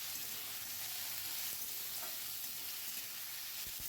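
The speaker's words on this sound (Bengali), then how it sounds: "কড়াইতে উচ্ছে আর কুমড়ো ভাজা হচ্ছে" Bitter gourd and pumpkin fry in a wok with a faint, even hiss. A few soft stirring scrapes come through, and a low thump sounds near the end.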